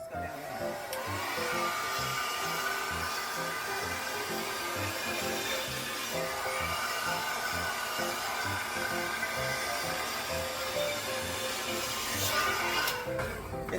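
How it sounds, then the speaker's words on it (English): A blow dryer runs on high heat while drying Type 4 high porosity hair, a steady loud whirring roar that continues throughout and cuts off near the end. "you take your blow dryer on the high heat"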